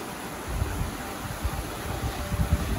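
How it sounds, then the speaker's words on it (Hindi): Strong wind blows along the Triund trek near McLeodganj, a broad rushing hiss with low buffeting gusts against the microphone that come and go. "तेज हवा चल रही"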